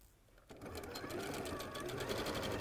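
A sewing machine stitches white and grey quilt fabric strips together with a quarter-inch seam. It starts after a short quiet moment, then runs as a steady, close, continuous whirring hum to the end.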